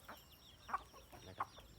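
Backyard native Thai chickens kept alongside Muscovy ducks cluck softly at a distance, with a few short, separate calls spaced apart over a faint, quiet background.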